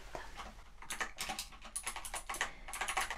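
Close, crisp typing on a computer keyboard in quick irregular bursts of clicks, heard alone with no talking.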